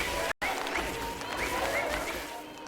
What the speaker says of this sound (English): They're cheering for a 4K difference gain in that Aegis power play